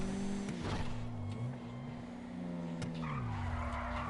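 A front wheel drive car drifting in GTA, its tires squealing loudly in long wavering tones over a steady engine hum, close and continuous with no talk.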